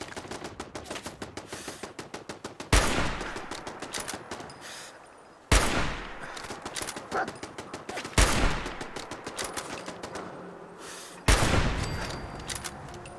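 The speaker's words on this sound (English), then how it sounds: "That's a machine gun turret." A machine gun turret in Fallout 4 fires rapid, sharp bursts repeatedly, each burst ending with a heavier booming impact, roughly every three seconds, loud and close.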